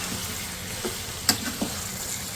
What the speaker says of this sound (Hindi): 1 से 2 मिनट इसको भून लेंगे प्याज के साथ